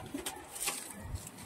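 Soft pigeon coos sound faintly over a noisy outdoor background, brief and partly buried in wind-like hiss.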